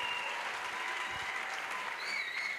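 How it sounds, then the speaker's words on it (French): A church congregation at an evangelistic crusade claps steadily together, a dense, continuous wash of many hands filling the space, with faint voices and a high tone drifting underneath. "Clap for Jesus, clap for Jesus."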